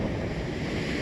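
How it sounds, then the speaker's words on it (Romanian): Ocean waves breaking against rocky shore on Easter Island, a loud broadband wash of surf mixed with wind rumble, steady for a brief moment with no voices. "Chiar e frumos oceanul și valurile și cum se sparg aici de stânci."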